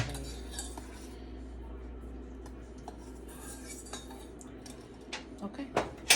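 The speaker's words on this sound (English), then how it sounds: "let me just get a spoon. Dig those seeds out." A metal spoon scrapes and taps against a pepper and dish while seeds are dug out, quiet scraping building into a few sharper clinks near the end, with faint background sound.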